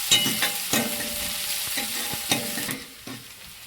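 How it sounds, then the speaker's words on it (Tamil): Loud, continuous sizzling of onions frying in hot oil, with occasional scraping stirs against the pan. "நல்லா எண்ணெய் காஞ்சிருச்சு வெங்காயத்தை போட்டுக்கலாம்"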